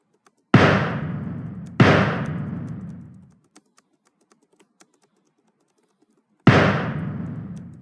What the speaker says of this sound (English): good little explosion going on